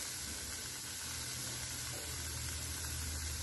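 Spices roast in a pan for a paneer macaroni sabzi, with salt, coriander powder, turmeric and Kashmiri red chilli sizzling and hissing in a steady, close, continuous fry.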